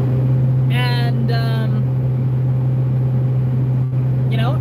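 A car cruises on a long highway drive, its steady engine and road drone filling the cabin throughout, with a voice speaking briefly over the hum.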